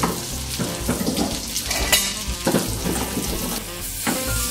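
Pears caramelizing in sizzling butter in a pan, a loud continuous frying hiss close up, with a few stirring scrapes and utensil clinks.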